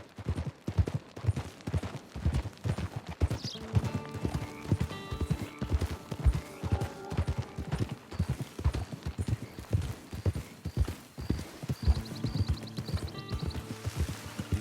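Horse hooves clip-clop in a steady rhythm, with several horses walking together and close by on the way into a camp, alone and without talk, occasional whinnies and faint bangs in the background.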